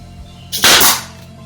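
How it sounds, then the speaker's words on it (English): A single sharp, loud pop of a nail gun driving a nail into wood during a woodworking project, a short burst standing alone against a quiet room. "Make sure to keep the nail gun 90 degrees to the surface and away from your fingers."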